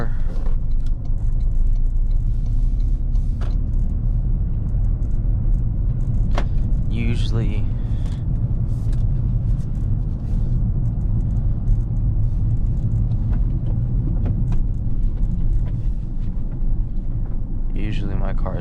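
A 2025 Toyota GR Corolla engine rumbles steadily from inside the car while driving before fully warmed up, a low continuous drone with occasional faint clicks and squeaks, and a voice talking over it at times.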